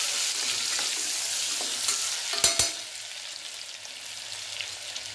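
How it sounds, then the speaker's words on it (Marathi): Chopped onion with garlic and asafoetida frying in a pan for South Indian rasam rice, giving a steady, close hiss of sizzling oil with a few soft stirring knocks in the middle. "कांदा थोडासा परतून घेऊया।"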